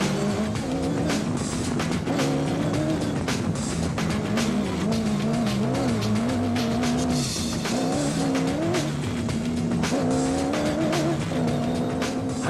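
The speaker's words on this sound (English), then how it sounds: "The pair were simply bombing past stranded and slower cars." Rally cars, including a Motorrad Revo 1 4x4, race past on the track. Their engines drone loud and steady with wavering pitch, and tires squeal over the constant roar.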